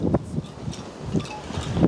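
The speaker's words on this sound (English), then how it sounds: "the wind is, as you can hear, is pretty bad" Strong November wind gusts through a garden, buffeting in uneven, rumbling bursts with faint rustling between them; no one speaks.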